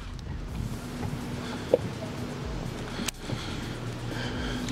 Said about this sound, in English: That wind just picks up, then it slows down, picks up, doesn't know what it wants to do.